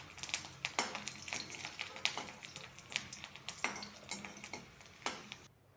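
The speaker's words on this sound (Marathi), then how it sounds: "त्यानंतर 7-8 लसणाचे पाकळ्या तळून घ्यायचे" Garlic cloves are fried in a pan for tomato chutney, heard as a soft, quiet background sizzle broken by repeated light scraping and clinking of a utensil against the pan in an uneven rhythm.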